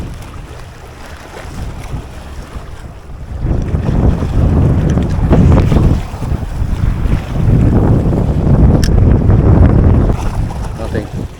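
Strong wind at sea buffets the microphone on a fishing boat off Jamaica, a loud continuous low roar swelling midway with wave wash underneath, while someone talks through it.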